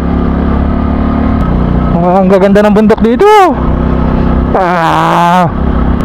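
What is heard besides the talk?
Euro Sport 110cc motorcycle climbing a mountain road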